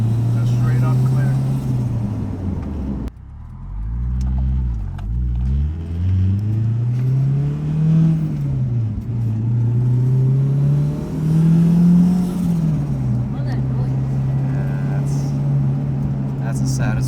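A boosted Acura TSX engine heard from inside the car on a ride along, loud and close, briefly dropping to a low idle then revving up in rising and falling sweeps, under a steady droning rumble.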